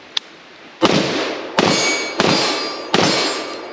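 Four loud, sharp gunshots from a SIG-Sauer MCX Spear 7.62 pistol fire at a slow, uneven pace, each one ringing out and decaying, with a faint click before the first shot.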